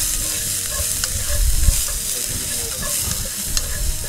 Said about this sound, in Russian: Все это перемешиваем и жарим лук до золотистой корочки.